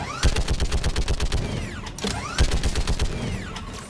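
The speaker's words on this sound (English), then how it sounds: "Who's shooting at me?" Repeated gunfire from the video game Mass Effect 3, a steady run of sharp shots in two bursts with mechanical clanks and creaks mixed in, fairly loud and close, with no talk over it.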